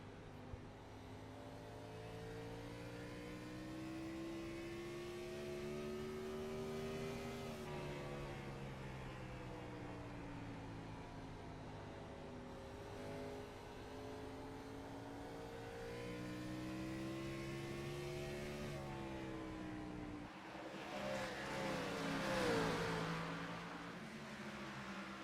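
Race car engine heard from inside the car at Richmond in iRacing, droning steadily with smooth pitch rises and falls through shifts and corners, then a louder burst of whooshing noise near the end, with no talking.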